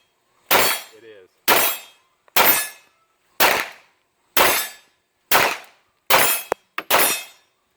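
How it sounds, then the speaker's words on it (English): A SIG M17 pistol fires eight loud, close shots at irregular intervals, each a sharp crack with a short ringing tail, with no voices between them. "Alright, let's shoot this dude."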